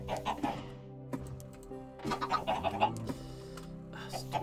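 Chickens cluck in the block-building video game Minecraft, several short bursts of clucking in a loose irregular rhythm, close and moderately loud, with game music or ambience underneath.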